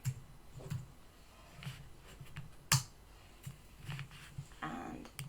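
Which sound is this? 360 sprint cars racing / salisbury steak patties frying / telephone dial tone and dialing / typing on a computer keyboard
typing on a computer keyboard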